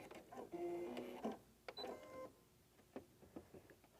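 Sewing machine chain piecing quilt blocks: two short bursts of rapid stitching separated by a pause, then scattered soft clicks and handling taps, close and fairly quiet with no talk.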